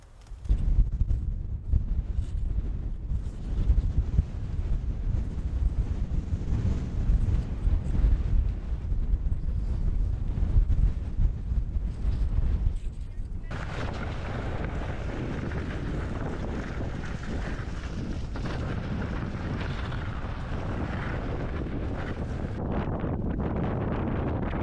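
Strong wind buffets the microphone during a wilderness ski trek to Pöyrisjärvi in Finnish Lapland, a loud continuous roar of gusts that eases slightly halfway through but keeps blowing steadily.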